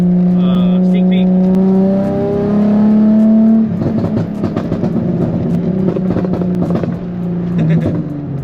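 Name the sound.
Nissan 350z drift car engine revving and shooting flames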